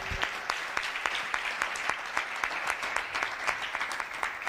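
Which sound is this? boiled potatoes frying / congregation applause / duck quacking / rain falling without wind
congregation applause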